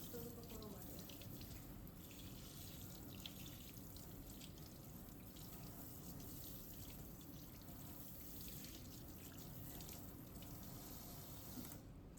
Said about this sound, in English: Let's also make sure to wash the handle at the same time.